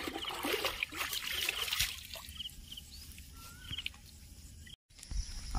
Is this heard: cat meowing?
no